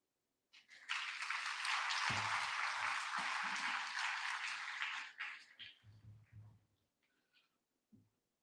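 An audience at an orientation program breaks into applause that swells quickly, holds steady and full for several seconds, then thins out into scattered claps and a few faint voices.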